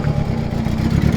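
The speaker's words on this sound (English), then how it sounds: "Bit of an exhaust leak there." A Nissan Silvia S13 engine idles close by with a low, rough, pulsing puff and rattle from an exhaust leak, steady throughout.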